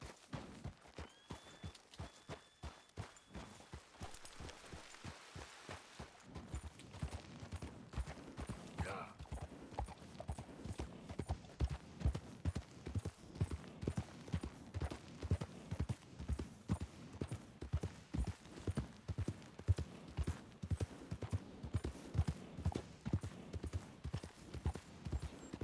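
Horse hooves in Red Dead Redemption 2, beginning as sparse steps and settling into a steady, rhythmic clip-clop that runs throughout at moderate volume, with faint game ambience behind.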